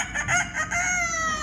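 A child imitates a rooster crowing with a rising, drawn-out cock-a-doodle-doo call, close and clear, delivered alone at a school animal-sounds game.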